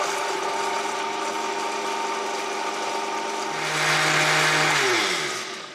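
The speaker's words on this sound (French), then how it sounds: "on va mixer de plus en plus fort pendant 1 à 2 minutes jusqu'à ce que du coup tout soit bien émulsionné" A blender running continuously, mixing chocolate and water for a vegan Christmas dessert, its motor loud and steady before rising in pitch and intensity toward the end, then winding down.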